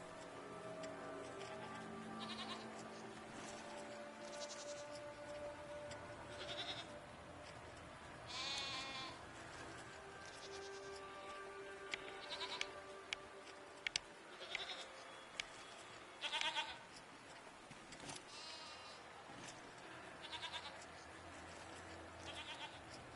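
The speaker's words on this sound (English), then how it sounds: "What are these strange goat-like creatures? Are they simply goats?" Goat-like creatures in the video game Season: A Letter to the Future bleat repeatedly at a moderate distance, several wavering calls scattered over a soft ambient music bed, with faint talking mixed in.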